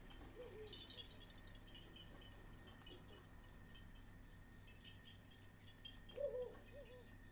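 Soft hooting bird call from Zelda: Breath of the Wild, faint and distant over a quiet ambient game soundscape, sounding twice with a low steady hum beneath and no talking.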